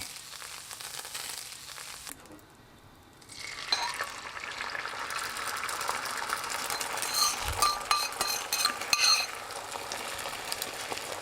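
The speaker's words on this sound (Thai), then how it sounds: "เทไข่" Beaten egg poured into a buttered pan: a brief quiet pause, then a loud, close, steady sizzle that keeps crackling without a break.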